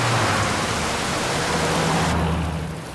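Heavy rain pours steadily as a dense, even hiss with a low rumble beneath, continuous throughout and fading slightly at the end, with no voices.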